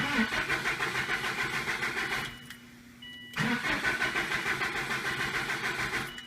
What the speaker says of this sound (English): we're going to crank the engine a few times to decrease fuel pressure